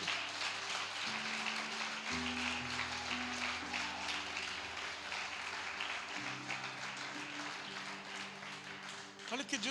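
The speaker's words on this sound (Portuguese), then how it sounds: "Dê um aplauso no nome do Senhor Jesus" A church congregation applauding during a sermon, a dense wash of clapping that holds steady for several seconds over sustained organ or keyboard chords, with a voice sounding under it.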